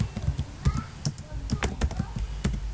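Keystrokes on a computer keyboard while filling in a company's address details in an online form, irregular close clicks with faint speech in the background.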